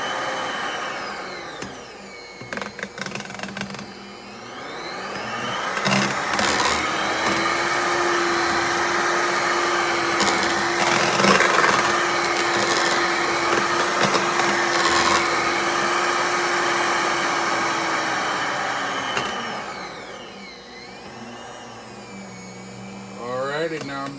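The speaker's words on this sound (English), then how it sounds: "now I'm going to turn the mixer off" An electric hand mixer whirs steadily in a pot of mashed potatoes, rising to a louder, higher-speed drone midway before winding down, with brief knocks and scrapes at the start and end.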